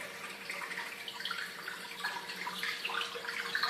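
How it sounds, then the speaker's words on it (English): Water pouring steadily into a reef aquarium tank as its feed line purges and the level begins to rise, a continuous faucet-like splashing rush heard up close with no talk. "now the feed to the tank is starting to purge, and obviously the level in the tank will be starting to raise"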